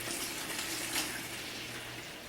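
Grape juice, no-sugar-added 100% juice, poured steadily into a winemaking container, a soft continuous liquid gush close by with no talking.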